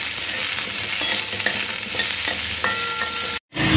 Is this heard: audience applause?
no